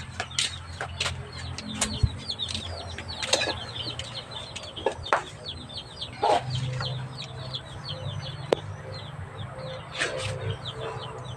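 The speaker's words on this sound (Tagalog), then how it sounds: "Ayan yung mga manok ko." Backyard chickens clucking and rooster calls scattered through a steady low ambient hum, with frequent short clucks, some wing flapping and a few louder nearby calls.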